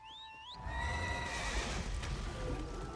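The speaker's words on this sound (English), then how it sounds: "we'll go with the Blood Horse" Blood Horse mount in the Elder Scrolls Online video game giving a loud, close whinny, followed by hoof clip-clops over a dense wash of game noise.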